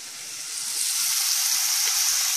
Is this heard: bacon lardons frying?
yes